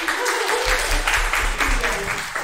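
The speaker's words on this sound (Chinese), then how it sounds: "大家鼓掌一下" An audience at a g0v civic-tech workshop held at Kun Shan University applauds: a dense, steady patter of many hands, fairly loud, with a voice speaking over part of it.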